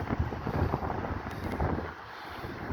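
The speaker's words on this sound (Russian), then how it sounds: "Я думаю, что даже по картинке вы ощутите, что достаточно сильно дует." Strong wind buffets the microphone on a city street in early spring, a steady rough roar and rumble that holds for a few seconds before easing slightly.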